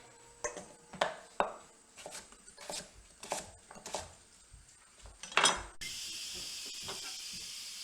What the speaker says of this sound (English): there goes the valve on my Instapot